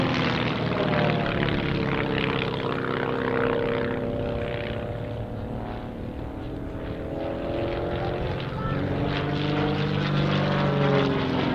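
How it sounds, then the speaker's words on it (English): Firefly propeller aircraft at the 2018 Dunsfold Wings and Wheels air display drone loudly and steadily overhead, engine pitch swelling and sliding as they pass close by, with no talk. "So here we see Andy in the lead aircraft coming in, having transferred leadership, with John following him."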